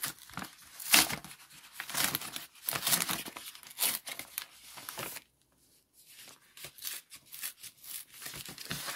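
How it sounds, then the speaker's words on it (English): A paper envelope being torn for junk journal pages gives close, crackly bursts of ripping and crinkling, with a short quiet gap midway before the tearing starts again. "Let's tear this envelope."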